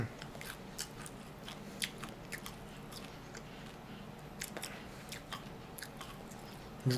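Crisp crunching bites into a dry, crunchy jerky snack, repeated irregular snaps and chews up close with no talking.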